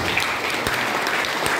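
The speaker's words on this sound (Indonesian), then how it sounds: "Kasih tepuk tangan itu." Church congregation applauding during a sermon, a brief burst of dense clapping from many hands at moderate loudness, with a few sharper claps standing out.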